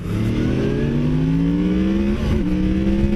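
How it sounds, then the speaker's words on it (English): A 2017 Yamaha FZ-10 motorcycle accelerates hard in third gear, its engine note rising steadily and loudly before dipping briefly at an upshift and climbing again. "Even in standard, third gear upshift, and that was not at redline."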